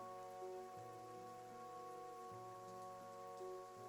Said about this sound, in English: As rain kind of trickles in from the broken ceilings up here,